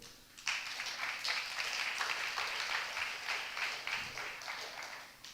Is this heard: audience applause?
yes